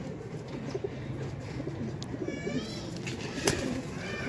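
Pigeons from a pair of show birds coo softly and repeatedly, a low murmuring layer with brief chirps and a faint rustle of wings, fairly steady throughout and close by.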